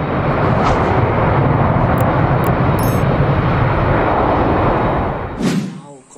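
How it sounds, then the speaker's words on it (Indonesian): An AirAsia passenger airplane roars loudly and steadily for about five seconds, a broad, dense engine rumble that then drops away abruptly, with a brief rustle and clatter at the end. "Di sini ada shot air Asia teman-teman."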